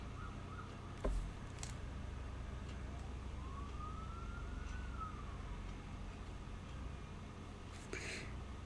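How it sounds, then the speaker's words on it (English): A police siren passes outside a house, faint and distant, its single rising-and-falling wail swelling and fading over a low steady background hum, with a couple of soft knocks nearby. "I heard police sirens and I thought it was in the game, but yeah, no. It's going past my house."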